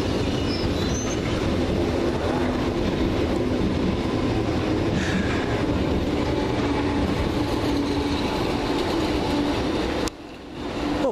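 London Underground Piccadilly line train bound for Cockfosters at Stamford Brook, a loud rumbling pass with clattering wheels and faint squeals, continuous until it cuts off sharply near the end.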